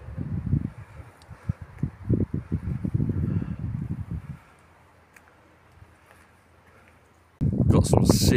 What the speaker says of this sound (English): Got some serious weather coming this way and the wind's blowing directly at me.